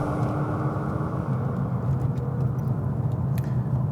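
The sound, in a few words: BMW M2 doing a smoky burnout with wheel spin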